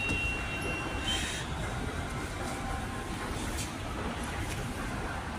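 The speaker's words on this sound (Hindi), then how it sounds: "यह है मेट्रो स्टेशन।" Steady low rumble of a Delhi Metro station hall with faint train machinery and distant hiss, a continuous indoor ambience with no clear voices.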